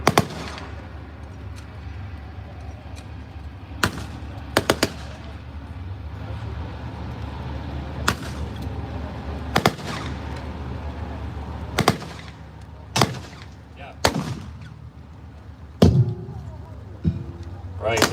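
Artillery battery fires at a tank reenactment weekend, with sharp booms spaced irregularly at middle distance over a steady outdoor rumble, and faint voices underneath.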